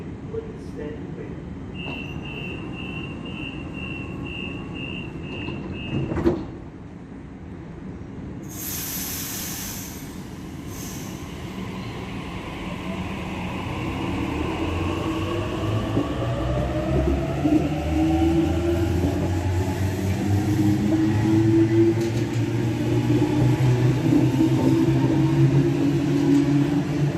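A Sydney Trains Waratah A18 electric train pulls out of Blacktown station. A platform chime and a hiss of doors are followed by a rising motor whine and wheel rumble that grows steadily louder, with station announcements heard over it.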